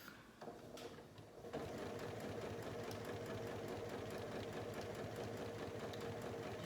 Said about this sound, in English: I'm gonna just sew some more before I get to the end and cut this in half.